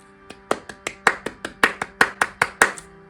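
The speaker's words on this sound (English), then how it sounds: "Round of applause to you" Hands clap about a dozen times in a quick, fairly even rhythm, close and crisp against a quiet background, with no voices.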